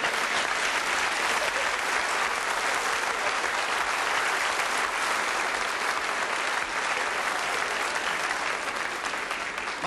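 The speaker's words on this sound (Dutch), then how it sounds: "Die krijgt altijd applaus." A studio audience applauds an orchestra leader with dense, sustained clapping that stays loud and steady for about ten seconds, with no talking over it.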